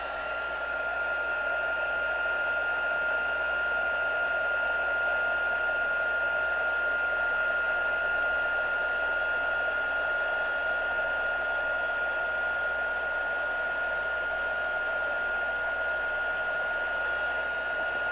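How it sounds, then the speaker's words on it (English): A heat embossing tool blows hot air in a steady, unbroken whir with a constant high whine, close and even for the whole stretch, with no speech. "I just figured not chat while I'm heat embossing because of the volume"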